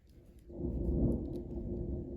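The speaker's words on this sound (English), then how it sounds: "If you hear that thunder, that is confirmation." A deep, rolling rumble of thunder swells after a brief pause and lingers, low and heavy, with no voices.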